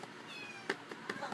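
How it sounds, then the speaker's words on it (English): Pet cat at home giving a few short, faint meows indoors over a soft background hiss, with a voice mentioning it. "Yeah, that's my cat."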